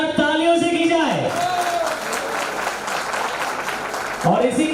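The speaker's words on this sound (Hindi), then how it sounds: "मैं चाहूंगा कि इस कार्यक्रम की शुरुआत एक बार जोरदार तालियों से की जाए" A crowd applauds at the opening of a community event in Mumbai, a dense sustained burst of clapping that swells and fades, with a voice speaking before and after it.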